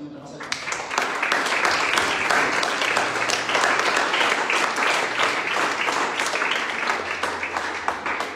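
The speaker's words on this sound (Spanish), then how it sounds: "Ahora, fuerte aplauso a Cristo" A church congregation gives Christ a strong round of applause, dense sustained clapping filling the space at steady loudness for several seconds, with a faint low hum beneath.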